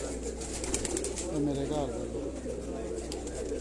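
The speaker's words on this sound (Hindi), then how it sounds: "शाहजोर कबूतर है जी" Shahjor breed pigeon cooing softly in a domestic loft, a brief murmuring coo under a steady background hum, with someone talking nearby.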